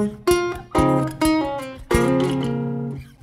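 An RnB guitar lick from the third part of the interlude, with a few plucked notes, slides and pull-offs ringing out in short phrases and a longer sustained run at the end, close and clear with no talking.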